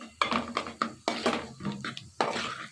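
A spoon scraping and knocking in a pan while chilli powder is stirred into fried onions, a string of sharp clanks and scrapes, close up, with no talking.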